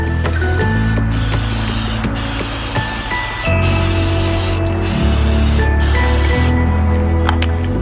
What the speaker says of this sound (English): take a little bit of cooking spray, spray over top of them